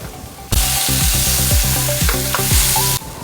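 Mustard oil hits a pan of lemon pickle mixture with a sudden loud sizzle that holds for a couple of seconds, broken by clattering stirs, then cuts off abruptly.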